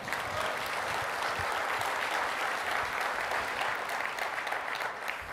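A conference audience claps in a sustained, dense round of applause that stays even and loud from start to finish.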